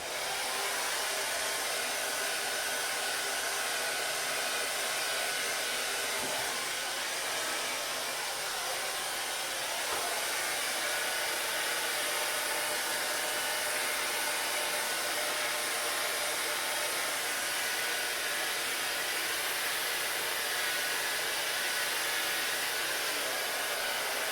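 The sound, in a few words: low power hair dryer blowing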